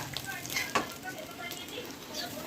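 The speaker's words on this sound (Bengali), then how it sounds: "এবার আমি নাড়বো চাড়বো।" Mixed rice being stirred in a pan with a spatula, cooked with fried vegetables and prawns, giving a soft, steady scraping and light sizzle close by with a sharper clack near the middle.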